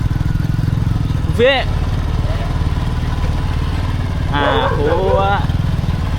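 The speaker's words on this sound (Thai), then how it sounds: "ขี่รถจักรไปพี่น้องเอ้ย" A motorcycle engine runs steadily nearby with a low, even putter throughout, while a voice cuts in twice over the top.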